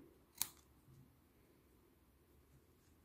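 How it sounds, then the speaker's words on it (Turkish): Scissors give a single quick snip through crochet yarn, close but faint, followed by quiet room noise. "Tekrar şöyle bir tane daha düğüm atayım. İplerimi kesiyorum."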